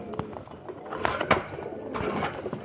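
Rampuri pigeons coo close by in short, throaty bursts, with a couple of louder broadband knocks or flutters breaking in briefly.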